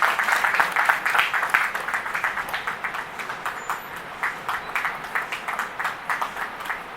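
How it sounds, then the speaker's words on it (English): Applause from an audience at a doctors' welfare society gathering, loud rhythmic clapping that gradually settles into a pulsing, synchronized beat, with a faint high ping near the middle. "A big round of applause, please."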